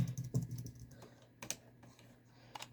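Keys on a computer keyboard are pressed in scattered, irregular clicks, a few sharper taps standing out, close up and alone in a quiet room.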